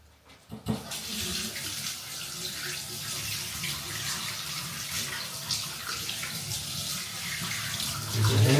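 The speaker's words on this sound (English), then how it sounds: "Give the hands a wash." Tap water runs steadily into a sink as hands are washed, a continuous close splashing rush that starts after a brief knock and carries on alone to the end.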